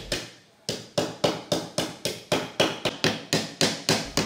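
Hand hammering on aluminium sheet for traditional handicraft, a steady run of about fourteen sharp, close metallic strikes at an even rhythm after a short pause, with no talking.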